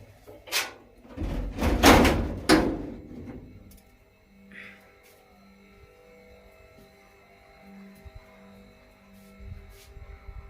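A door is pushed shut against strong wind, giving a few loud knocks and thuds early on, then only a quiet background hum.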